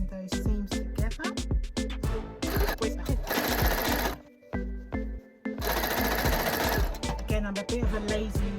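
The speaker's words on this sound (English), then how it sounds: "now we're going to be stitching those seams together" Sewing machine stitches fabric seams on an African print jacket with a loud, rapid mechanical chatter in several bursts separated by brief pauses.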